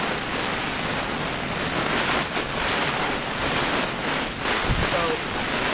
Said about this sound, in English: these are 40 mile an hour gusts right here